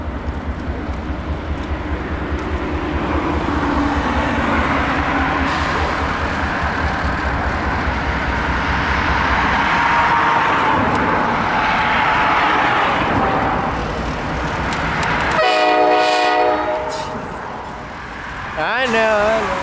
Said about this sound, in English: we saw a CSX coal train led by CSX 7537, a standard cab.